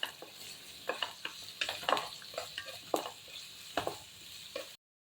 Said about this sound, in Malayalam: നല്ല ബ്രൗൺ കളറാണോ നന്നായി വറുത്തെടുക്കുക.